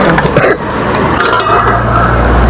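A metal pressure cooker being handled for sale at a Friday scrap market, with loud, close clattering and clinking of metal against metal over busy market noise and faint voices.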